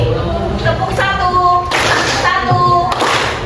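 A classroom of children clapping hands together in a counting clap game, with bursts of clapping in rhythmic groups and a teacher's voice calling counts over them.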